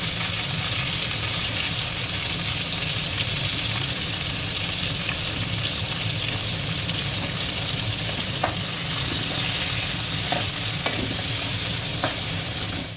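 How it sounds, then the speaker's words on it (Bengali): Carrots frying in hot oil in a pan, producing a loud, dense, continuous sizzle heard up close, with a few faint utensil taps near the end. "প্রথমে গাজরটাকে আমি তেলের মধ্যে ভালোভাবে ফ্রাই করে নেব।"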